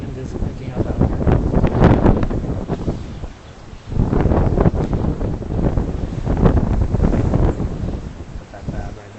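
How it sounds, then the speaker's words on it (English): Strong gusts from Typhoon Haima buffet the microphone at Victoria Harbour in central Hong Kong beside the maritime museum, surging in loud roaring waves with brief lulls. "Wind is picking up out here."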